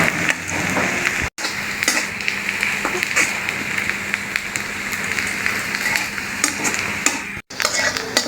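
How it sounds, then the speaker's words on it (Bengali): Onions fry in hot oil while being stirred in a pan for a ridge gourd curry with potato and chicken, a loud continuous sizzle broken by scraping stir strokes and two very brief dropouts. "তো দেখুন ভাবি কি সুন্দর করে পেঁয়াজটাকে ভেজে নিচ্ছে"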